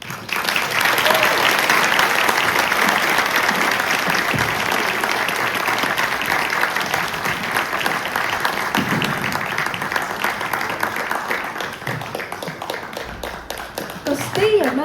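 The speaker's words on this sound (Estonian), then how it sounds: "loodame, et toetate meie esinejaid täna eriti valjuhäälsete ovatsioonide ning aplausidega" Audience applause at an Estonian music studio's birthday concert in Helsinki, a dense, loud, sustained clapping from a full room that carries on for many seconds before thinning slightly near the end.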